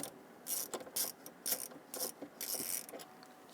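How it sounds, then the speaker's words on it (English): A 10mm socket ratchet works loose a battery anchoring nut on a 2011-2023 Dodge Charger 3.6L V6, sounding as several quick bursts of close clicking pawl strokes with short pauses between them. "Using a 10mm socket, loosen the anchoring nut here."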